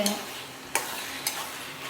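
Chicken liver sizzles in a hot pan and is stirred, a soft steady frying hiss broken by two sharp scrapes of the spoon, close by.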